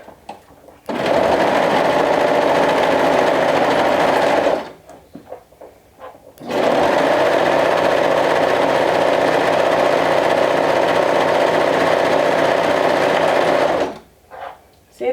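A home sewing machine stitches the side seam of a romper in two long, steady runs of rapid mechanical whirring, close and loud, separated by a short pause with faint handling noises.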